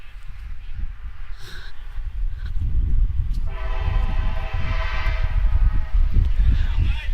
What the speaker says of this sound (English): Hear that plenty of noise in the background. The train is just leaving Rydell.